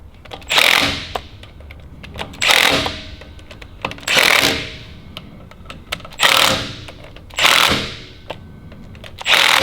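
An impact wrench starts bolts on a supercharged LS engine build, sounding in five loud, separate bursts of rattling hammering at a steady rhythm, each with a short pause between.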